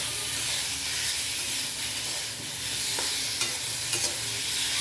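Mango pieces fry with turmeric and salt in a pan over low flame, giving a steady close sizzle with a spoon scraping and stirring now and then, no voices.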